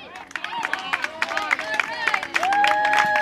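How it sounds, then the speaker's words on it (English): A crowd at a youth baseball game cheers and claps after a hit, a lively mix of voices and shouts with bright whistle-like tones rising over steady applause and babble. "Listen to the crowd roar."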